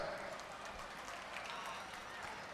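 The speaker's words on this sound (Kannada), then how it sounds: "ಒಂದು ಸಲ ಜೋರಾದ ಚಪ್ಪಾಳೆ ನರಸಿಂಹ ಜೋಶಿ ಅವ್ರಿಗೆ ಇರಲಿ ಬಂಧುಗಳೇ." Steady applause from a live comedy show audience at a village temple fair, a dense wash of many hands clapping at an even level throughout.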